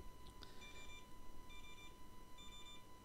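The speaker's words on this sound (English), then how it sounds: "Oh, that's my timer going on." A timer beeps quietly in a room during remote-control setup for a Flywing FW450L V3 helicopter, sounding a faint, evenly spaced series of three short electronic tone bursts.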